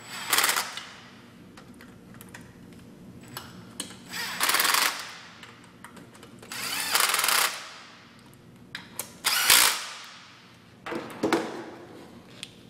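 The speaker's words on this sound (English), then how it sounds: "tightening up the four bolts, be sure not to over tighten them" Four bolts are tightened on a pump check valve during top housing installation, producing several loud, close bursts of rattling, ratcheting mechanical noise separated by quieter gaps.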